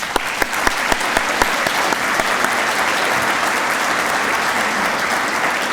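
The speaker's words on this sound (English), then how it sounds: "Let's give our speakers one more round of applause." Audience at a ceremony opening a joint SLCC and University of Utah campus in Herriman applauds its speakers, a dense, steady wash of clapping that holds evenly for several seconds, with a few sharper individual claps standing out near the start.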